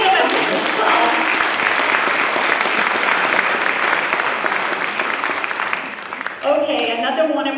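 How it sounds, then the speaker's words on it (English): An audience at a spring convocation ceremony gives sustained applause for new staff members, loud and continuous clapping that thins out near the end as a voice begins speaking. "We'll give them a big applause."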